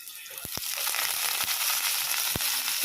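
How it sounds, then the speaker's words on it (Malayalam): Mustard seeds split and pop in hot oil over a steady sizzle, giving a few sharp cracks near the start and one more later. The crackle sounds close and fills the pan with no voices over it. "കടുവ് പൊട്ടിക്കാനായിട്ട്"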